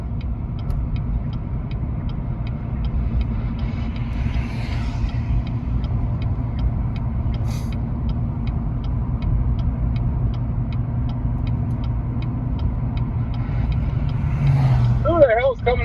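Steady low vehicle rumble with a faint mechanical drone as a car drives past in the early morning, continuous and moderately loud, with people talking faintly nearby.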